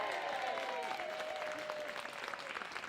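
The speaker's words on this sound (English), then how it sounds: "Ladies and gentlemen, big round of applause, please," A television studio audience at a National Lottery show gives presenter Eamonn Holmes a round of applause, a steady wash of clapping over music, fairly quiet and continuous, tapering slightly toward the end.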